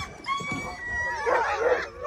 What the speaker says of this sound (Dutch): Dit zijn onze hondjes.